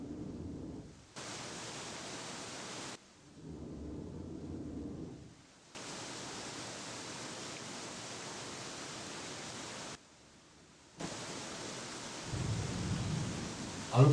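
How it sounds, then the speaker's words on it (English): Rain and thunder effects in the survival video game Escape the Pacific: a steady rushing downpour that cuts in and out in sections, with low rumbling swells near the end. "I love the thunder effects on this"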